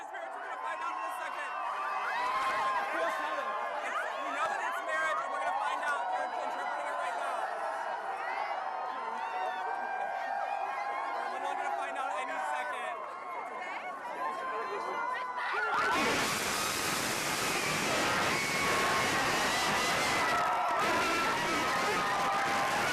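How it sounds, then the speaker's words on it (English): A crowd gathered outside the Supreme Court reacting to the 5-4 marriage equality verdict, a dense mass of chatter and voices that swells into louder cheering and shouting partway through. "let's show you the moment at the Supreme Court, the crowd outside reacting when they first heard what the verdict,"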